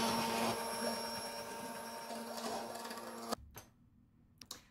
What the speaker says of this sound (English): And then I use my immersion blender and blend in the remaining vegetables.